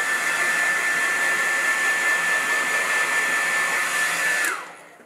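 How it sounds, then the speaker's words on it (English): A hair dryer blows with a steady, loud whooshing roar and a thin high whine, then cuts off near the end as the motor winds down. "I've actually got a hairdryer, so you could use a hairdryer."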